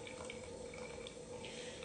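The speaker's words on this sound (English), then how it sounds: "Slowly add this to the carbonated water." A solution trickles slowly into carbonated water while making magnesium bicarbonate at home, a faint, steady watery pour with light fizzing and no speech.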